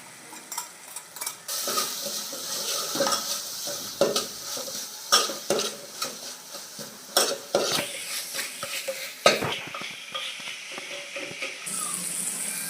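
Fenugreek seeds and chilies fry in hot oil in a pan, a steady sizzle broken by repeated scrapes and clinks of a spoon stirring against the pan, close up and without speech.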